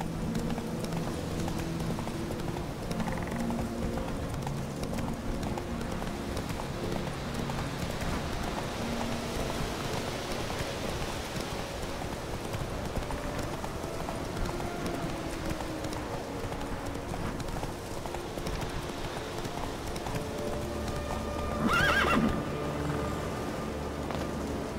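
Hooves of a horse clip-clopping steadily through a Witcher 3 game world, a continuous galloping rhythm over faint rain and ambient music, with a brief louder burst near the end.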